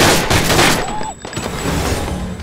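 Rapid gunfire from an AK47 rifle and a Desert Eagle pistol in the VR shooting game Gun Club, loud dense bursts filling most of the moment with a brief lull in the middle, no talk over it.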